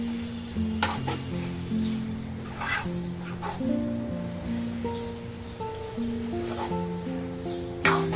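Dal and coconut roast in a pan while being stirred, soft scraping strokes of the spoon over a faint steady sizzle, with occasional louder knocks against the pan and no voices.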